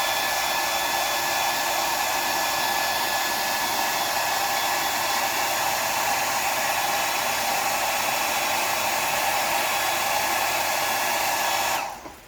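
A hair dryer blows continuously at close range for about twelve seconds to dry golden yellow paint on a square bill crankbait fishing lure, a loud, steady whoosh that cuts off abruptly at the end.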